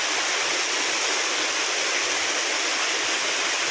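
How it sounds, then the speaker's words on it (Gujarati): During an unseasonal summer rain, rainwater rushes along a street in a steady, close, hissing flow that carries on evenly throughout, with no talking. "કેટલું બધું પાણી જાય શેરીમાં"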